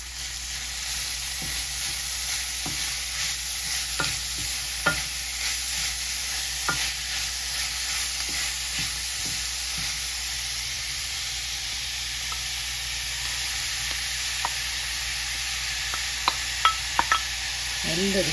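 Grated carrot fries in a pan for a carrot tuna dish, giving a constant hiss of sizzling with scattered stirring scrapes and occasional light clinks, close by and steady.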